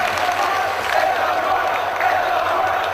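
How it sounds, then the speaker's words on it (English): Wrestling fans at a British independent wrestling show clap and cheer in a steady, loud crowd roar, with a broad wash of applause and shouts filling the hall throughout. "you can hear these fans applauding these two men's brave efforts"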